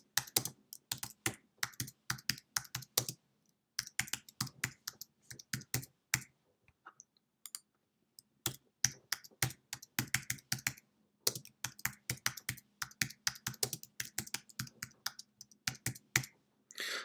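Fingers type on a computer keyboard while form labels are entered on a website, bursts of quick, close key clicks separated by short pauses, with no voices.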